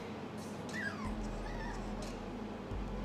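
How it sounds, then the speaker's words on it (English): Seven puppies whimper and cry in the background, a steady stream of thin high whines and yips under a low hum, with some voice activity mixed in. "I have 7 puppies crying in the background."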